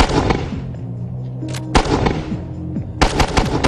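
A Mark 19 automatic grenade launcher fires in loud, sharp bursts of booming shots, with echoing decay between the volleys outdoors.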